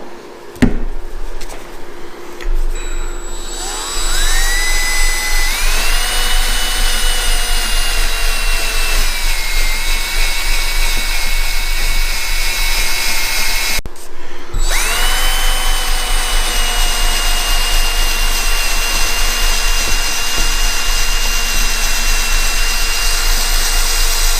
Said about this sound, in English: we're going to go ahead and grab our drill and our 3M eraser wheel